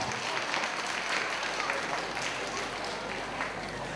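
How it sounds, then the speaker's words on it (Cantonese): Sustained applause from a crowd honouring award-winning kindergarten students at a school prize-giving, steady and dense for the whole stretch with no voices standing out. "好，再次俾掌聲得獎嘅同學。"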